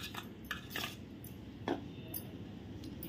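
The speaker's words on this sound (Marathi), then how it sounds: "आधी मी चमच्यानेच मिक्स करून घेते, कारण आपण गरम तूप घातलं आहे ना।" A spoon mixes hot ghee into flour in a bowl, giving faint, irregular scraping taps and light clinks against the dish, close but quiet, with no talking.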